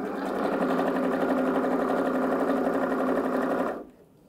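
A sewing machine stitches a satin cap in one steady, rapid, close-up run of needle clatter lasting a few seconds before stopping abruptly.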